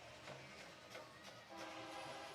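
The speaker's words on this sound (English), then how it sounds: "So now we got the train horn out of the way." A Kansas City Southern freight train passes at a distance near a high school football game in Pell City, its horn sounding as a steady, sustained blare over the low rumble and clatter of the rolling cars.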